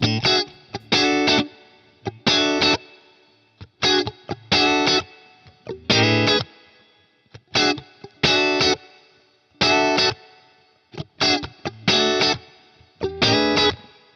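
A heavily distorted G&L Legacy electric guitar plays short, punchy chord bursts separated by silences, thick and weighty in the low end.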